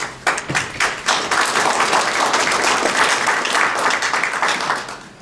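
Audience applause at a political candidates' forum, a burst of many hands clapping that swells quickly, holds loud and steady, then begins to fade.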